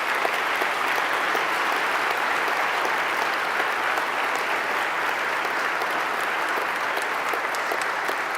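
A large audience claps steadily at a religious testimony talk, a dense even roar of applause sustained at full strength without a break.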